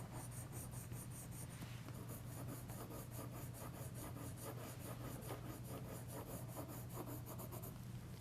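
Colored pencil blending and burnishing over earlier layers on paper: close, continuous scratchy rubbing in quick back-and-forth strokes, with a steady low hum underneath and no talking.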